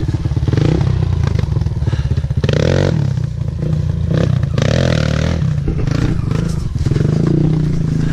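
A Kawasaki KLX 140L dirt bike engine rips and revs loudly and continuously on a turn track, close by, with rattling clatter and thumps over the rough engine drone.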